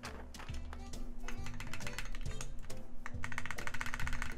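Keys clack steadily on a Reborn60 mechanical keyboard fitted with GMK 9009 keycaps and cream switches, a dense run of fast, close, crisp keystrokes while a person talks quietly over the typing.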